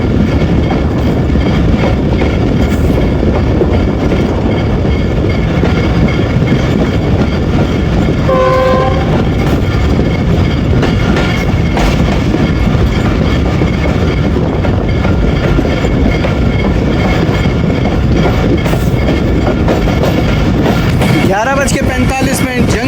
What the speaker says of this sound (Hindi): बज के 45 में जंगशाही से पास हो रही है ट्रेन।